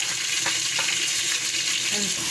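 Tomatoes hitting a pan of frying bulb and spring onions for vegetable biryani, giving a steady close sizzle with soft stirring scrapes throughout.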